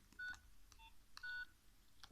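Keypad tones from a Nokia 2600 mobile phone as *#06# is dialed: four short, quiet electronic beeps spaced unevenly, each a clear two-tone chirp over faint background hiss.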